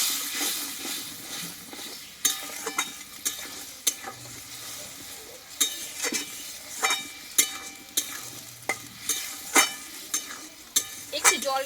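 Soybean curry with a yogurt mixture stirred and frying in a pan: a steady sizzle punctuated by regular scraping and clinking of a spoon against the pan, close and fairly quiet.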